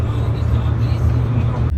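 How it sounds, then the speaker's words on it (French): A bus idles or rolls along on a hot day in the Basque Country, giving a deep, steady engine rumble that ends abruptly, while people talk nearby. "Il y a un bus là-bas."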